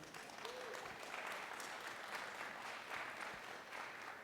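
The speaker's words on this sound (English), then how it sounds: "Let's give a round of applause to everybody." Audience at the Regenerate 2022 agriculture conference applauds the volunteers with a sustained, even wash of clapping heard at some distance, fairly quiet throughout.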